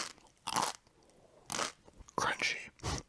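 Dry, uncooked freeze-dried fettuccine alfredo with chicken is bitten and chewed close up, giving four or five sharp, loud crunches separated by brief quiet gaps.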